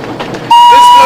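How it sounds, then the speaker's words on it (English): Steam locomotive whistle on the Bluebell Railway, a loud sustained shrill tone that bursts in halfway through and holds steadily to the end, following a short stretch of quieter background with faint voices. "This blows the whistle."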